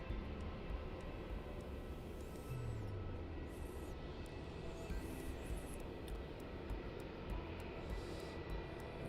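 Malaysia Airlines airliner, flight MH 330, at Melbourne Airport, giving off a faint, steady jet rumble from a distance. A broadband roar fills the background, and a few light clicks and handling noises sit near the microphone.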